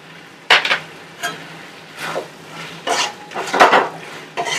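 Chilli mushroom is stirred in a pan after salt goes in, with several bursts of metal utensil scraping and clinking over a low sizzle, close and fairly loud.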